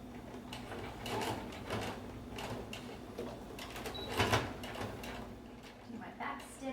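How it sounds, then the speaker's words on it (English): A sewing machine runs stitching along the edge of a fabric face mask, giving quick mechanical clatter in short bursts with pauses, fairly close and moderately quiet against a low room background. "I'm actually sewing it with the flap side up because I'll just stitch right along the edge."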